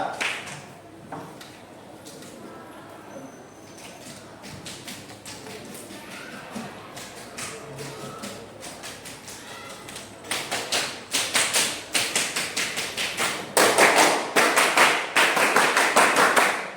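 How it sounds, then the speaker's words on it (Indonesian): Scout-style rhythmic clapping done with one to five fingers in a classroom, starting as soft scattered taps and growing into louder, fuller claps in quick patterned bursts toward the end. "Untuk tepuk pramukanya mulai dari 1 jari sampai 5 jari."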